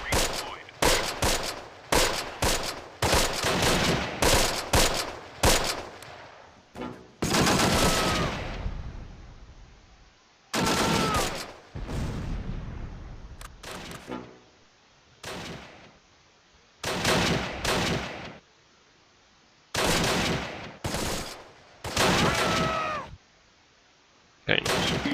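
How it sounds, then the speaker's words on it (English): Bursts of MG42 machine gun fire in the Close Combat: Last Stand Arnhem battle game, loud rattling volleys in repeated bursts of a few seconds each, separated by short gaps. "because it is just too much fire from those machine guns, we just can't deal with it"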